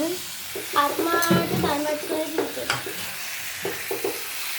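Chicken curry with pieces of heart is stirred and mixed in a pan. Soft sizzling runs under clinking, scraping strokes of a spoon against the metal, with a few louder knocks.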